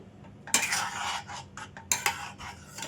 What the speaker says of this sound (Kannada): ರವೆ ಹಾಕಿದ್ಮೇಲೆ ಲೋ ಫ್ಲೇಮಲ್ಲಿ ನಿಧಾನವಾಗಿ ನಾವು ಮಿಕ್ಸ್ ಮಾಡ್ಕೋಬೇಕು